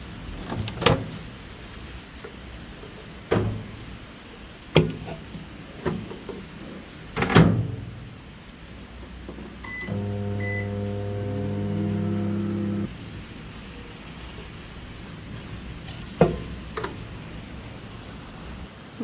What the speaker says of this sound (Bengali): এখন এটাকে আমরা ওভেনে দিব, সে আবার গরম না করলে খাবে না